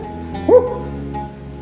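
A man imitates a dog's bark with one short, rough woof-like yelp mid-clip, voiced close up and surrounded by low murmur.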